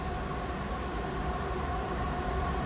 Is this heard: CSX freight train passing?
yes